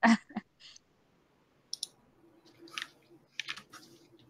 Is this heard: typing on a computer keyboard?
yes